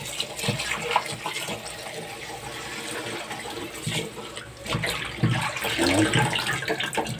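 Pork intestines are rinsed in water, with splashing, sloshing and running water sounds swelling and fading close by, and a brief spoken word in the mix.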